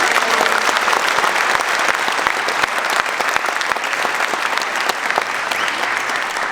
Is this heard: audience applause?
yes